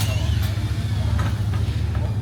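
Nasser Al-Attiyah's Dakar 2024 rally car engine runs with a steady, loud low rumble, close by, with faint voices in the background.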